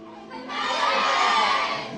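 A live interview audience in China screams together, a high shrill burst of crowd shrieking that swells after a moment and holds loudly to the end.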